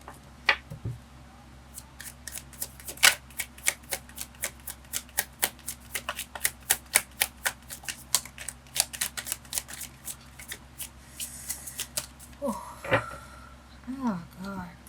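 Someone shuffles a deck of tarot cards by hand, making a long run of crisp, rapid flicks and soft slaps close by. A voice speaks briefly near the end.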